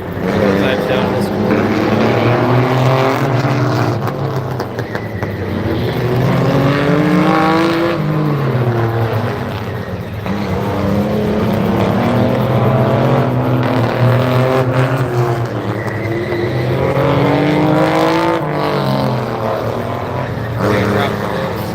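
Race cars roar through hot laps at Flat Rock Speedway, engines loud and sustained with rising and falling pitch as cars pass, under an announcer's voice.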